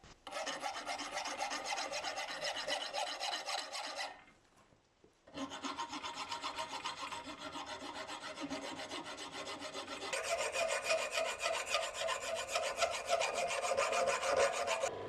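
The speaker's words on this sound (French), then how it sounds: "je peaufine la forme à la lime" A file rasps over a forged steel hammer peen as it is shaped, with rhythmic close strokes running in long stretches, a brief pause near the middle, then steady filing again.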